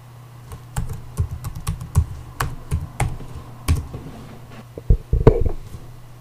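A password is typed on a computer keyboard for root access in Kali Linux, heard as scattered close key clicks in an uneven rhythm over a low hum, ending with a couple of firmer presses.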